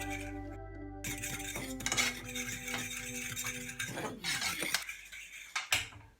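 A fork stirs cornflour slurry into a boiling sauce in a pot, clinking and scraping against the metal with light rattles and a bubbling background, close and fairly quiet.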